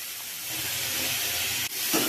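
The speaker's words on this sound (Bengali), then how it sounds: "এর মধ্যে আমি টমেটোটা আর সব রকম মশলা দিয়ে দেব। দিয়ে মশলাটা একটুখানি কষে নেব।" Tomato and mixed spices sizzle and fry in a pan for a vegetarian vegetable curry, giving a steady, close, loud hiss. The hiss briefly dips near the end, then resumes.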